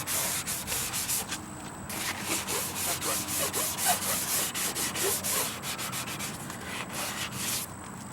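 An abrasive sponge scrubs the casing of a 1997 JVC TV in close, rhythmic back-and-forth strokes, loud and harsh, with brief pauses between runs.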